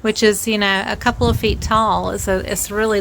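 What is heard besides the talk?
No everyday noise stands out behind the speech.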